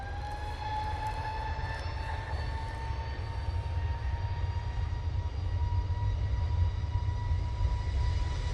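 An EasyJet airliner taxis at the airport, its jet engines a steady, distant whine over a deep continuous rumble that grows slightly louder toward the end.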